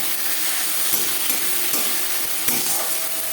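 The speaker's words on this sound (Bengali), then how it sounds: "দু তিন মিনিট পেঁয়াজ ভেজে নেওয়ার পর দিয়ে দেবো আদা বাটা, কাঁচা লঙ্কা বাটা" Ginger and green chili paste fry with onions in oil for a fish and eggplant dish, a loud continuous close sizzle punctuated by a few soft stirring scrapes.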